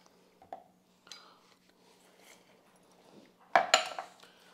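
A spoon stirs pico de gallo with lime and salt in a bowl, giving quiet scrapes and soft clinks that end in a brief, louder clatter against the dish.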